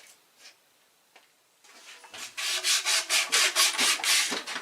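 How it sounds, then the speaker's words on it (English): A plastic razor blade scrapes old gasket residue off during a water pump replacement on a Mercury 115 hp two-stroke outboard. After a few faint taps, about ten close, rhythmic rasping strokes follow, with no voice. "I'm going to take a plastic razor blade, get the rest of it off."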